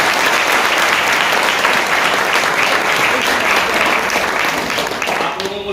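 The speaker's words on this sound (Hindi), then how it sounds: "धन्यवाद सर के लिए जोरदार तालियां।" A large audience at a Hindi success-story seminar gives loud, sustained applause, a dense wash of clapping that stays strong throughout and only begins to thin at the very end.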